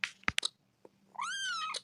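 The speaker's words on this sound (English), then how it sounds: "This is a kitty cat." A cat gives a long, drawn-out meow, clear and close, following a few short sharp taps and clicks in an otherwise quiet room.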